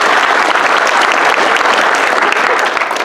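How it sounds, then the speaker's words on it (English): Loud, dense applause from a conference audience at a keynote, continuous clapping filling the room evenly from start to finish with no speech over it. "Big round of applause for our sponsors."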